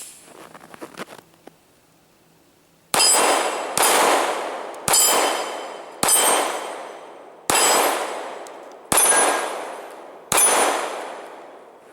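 A Kimber 1911 Compact Stainless II .45 ACP pistol fires seven loud, evenly spaced shots outdoors, each sharp crack ringing off in a long decay, with faint handling noise beforehand.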